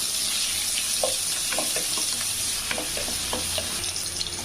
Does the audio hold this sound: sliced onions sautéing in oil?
yes